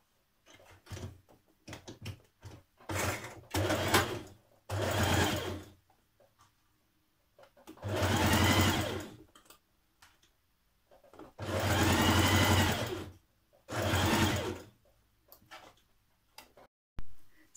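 Sewing machine stitching a shirt dress collar seam (Simplicity 8546): close, rapid mechanical ticking in short bursts and several longer whirring runs separated by pauses.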